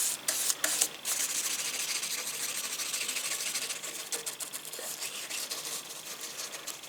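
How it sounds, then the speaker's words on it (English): Close, continuous scratchy brushing as a paintbrush scrubs gloss paint onto wooden staircase spindles, a bristly rasp with a steady back-and-forth texture. "it might sound rough this, but you are slightly scrubbing it on in a way"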